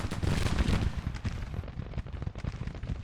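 Artillery fire from a large American Civil War battle in a video game, a barrage of overlapping booms and crackling shots that is dense at first, then thins into scattered reports.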